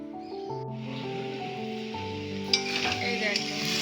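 Pointed gourd and paneer mash, made spicy, fries in a pan with a steady close sizzle and a couple of sharper scraping stirs partway through, all under soft background music.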